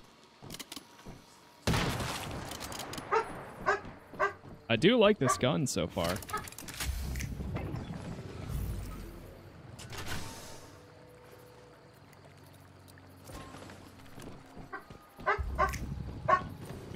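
A dog barks and yips in the survival video game Once Human, with several quick barks and a whimper amid game noise and bursts of gunfire while someone talks over the top.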